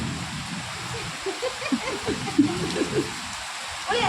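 Unseasonal rain during a storm with wind and thunder falls as a steady outdoor hiss, with voices talking underneath.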